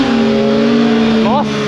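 A 2023 Honda CBR 650R inline-four holds a steady, buzzing drone in second gear on a ride, the pitch climbing sharply in a quick rev near the end.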